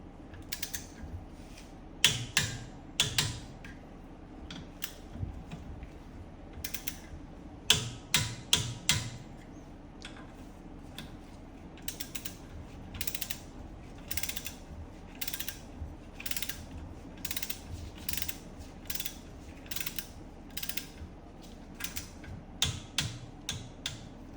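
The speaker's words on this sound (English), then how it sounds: "And we'll torque them down." A torque wrench clicks and ratchets in irregular bursts while tightening wheel studs on a Porsche 911, Cayman or Boxster. Sharp, close ticks sound with short pauses and no voices.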